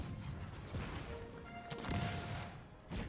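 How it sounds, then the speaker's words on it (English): Cannons fire across a Cossacks 3 skirmish battlefield against the last spearmen, a steady dense roar of booming shots and crashing impacts, with sharper blasts rising near the middle and the end. "The cannons now, are just absolutely raining fire and death upon the last remaining spearmen."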